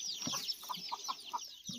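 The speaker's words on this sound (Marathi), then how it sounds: "कोंबडी आहे." A chicken clucking close by in a series of short, quick clucks over under two seconds, with faint bird chirps in the background.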